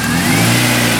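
A K20-engined car revs hard at full throttle, a loud, close, continuous engine drone with rising pitch throughout the short moment.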